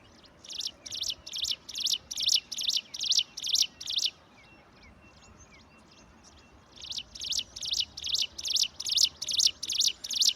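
A bird sings from a nearby tree, giving a rapid run of bright repeated chirps, pausing for a few seconds, then resuming a second steady burst, close and clear over faint background hiss.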